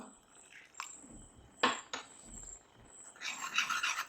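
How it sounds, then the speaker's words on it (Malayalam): Spoon stirring custard powder into milk in a bowl for caramel semiya payasam, giving quiet scraping rasps with a couple of sharper clinks and a busier stretch of stirring near the end, no voices. "അതിലേക്ക് കുറച്ച് പാലൊഴിച്ച് കൊടുത്ത് നമുക്ക് ഇളക്കി കൊടുക്കാം."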